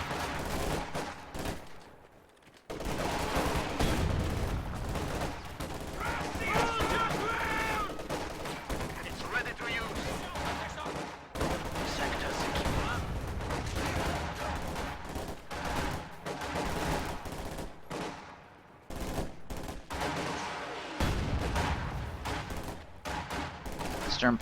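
Sniper and rifle fire in a video game battle, with dense, continuous crackling volleys of shots layered over one another throughout.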